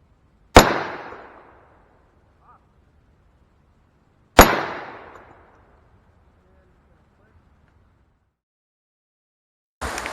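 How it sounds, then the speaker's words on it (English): .45 Colt rounds strike a small steel popper target on an outdoor range, giving two sharp, ringing clangs about four seconds apart that each decay slowly, with the start of a third hit at the very end. "But let's hit this little steel popper here."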